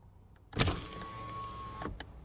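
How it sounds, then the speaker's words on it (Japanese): Power window on a 2021 Honda Vezel (HR-V) runs once, a brief clunk as the glass starts, a steady electric motor whine for over a second, then a thud as it stops; quiet interior, no voices. "パワーウィンドウはすべてのドアで自動全開閉ができます。"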